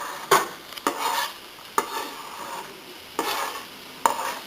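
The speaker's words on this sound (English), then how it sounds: "I'm going to add these onions and green peppers to the skillet." Onions and green peppers hit a hot skillet for a country omelet, with a soft background sizzle broken by several sharp scrapes and stirring knocks of a utensil against the pan.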